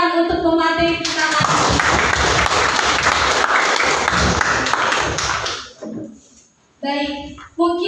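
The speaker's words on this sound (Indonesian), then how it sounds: "Beri tepuk tangan untuk pemateri kita." An audience at a legal studies seminar applauds a speaker, a dense burst of clapping lasting about five seconds before it fades, with a speaker's voice heard before and after it.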